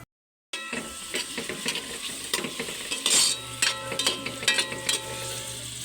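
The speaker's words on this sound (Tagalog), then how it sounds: "Pinagsasabay ko na pong lutuin ng luya at bawang." Ginger and garlic sizzle steadily in hot oil in a pan, a continuous frying hiss with occasional stirring scrapes and clinks, close and moderately loud, no talking.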